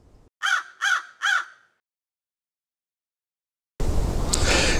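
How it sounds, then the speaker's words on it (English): Eurasian jay, a UK member of the crow family, gives three harsh, rasping calls in quick succession, then falls silent before a burst of broadband outdoor noise. "Jays are the most colourful and beautiful member of the crow family. The jays that we have in the UK are the Eurasian jay."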